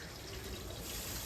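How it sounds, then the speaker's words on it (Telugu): Water running steadily, as if poured or flowing from a tap, in an outdoor village setting, a continuous broadband wash of fairly close splashing with no talk. "ఏం నీళ్ళు పోతున్నావు?"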